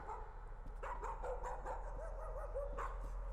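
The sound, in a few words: dog barking in video game Layers of Fear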